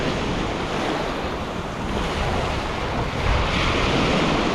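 Sea waves wash continuously at high tide along a white sand fishing shore, a loud unbroken roar of surf mixed with gusty wind buffeting the microphone.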